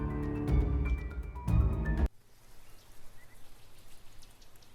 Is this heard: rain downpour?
yes